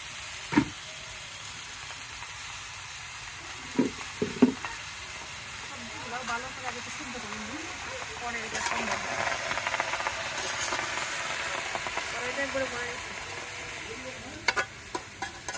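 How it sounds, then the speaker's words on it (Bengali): Vegetables with black gram cooking in a large wok on the stove, giving a continuous hiss and sizzle broken by clanks of stirring, while faint voices murmur in the background. "আমি চুলায় কড়াই বসিয়ে দিয়েছি, সবজি রান্না করব"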